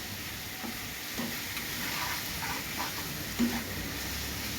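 Pumpkin slices fry in hot oil, giving a steady close sizzle and crackle with small bumps of stirring throughout.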